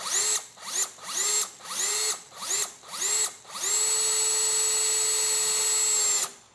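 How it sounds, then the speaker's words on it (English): Power drill driving a screw into a wooden wall stud: six short whirring bursts in a steady stop-start rhythm, then one long continuous run, loud and close with no talk. "Let's put a screw in and find out if there actually is a stud."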